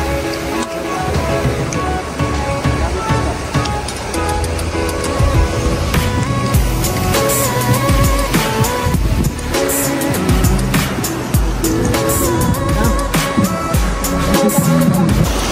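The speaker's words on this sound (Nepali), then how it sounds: "यो चाहिँ सुन खोला रहेको छ" The Sun Khola, a mountain river in Myagdi District on the trek toward Annapurna I base camp, gives a loud, steady rushing roar that fills the whole stretch without a break.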